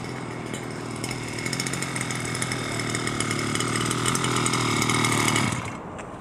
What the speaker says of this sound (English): Oh, the belt broke.